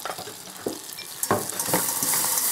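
Flour being stirred into melted butter for a roux in a pot, a soft frying sizzle broken by scattered scraping and clinking strokes of the spoon, growing slightly busier toward the end.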